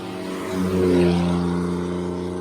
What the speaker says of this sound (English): Looks like we're gonna get a little action here out of the old cars.